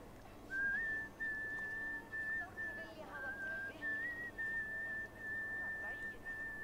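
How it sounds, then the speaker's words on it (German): Someone whistles a steady, sustained tune in the video game Assassin's Creed Valhalla, a thin clear pitch that holds and wavers slightly for several seconds over quiet game ambience. "Wer pfeift denn hier so?"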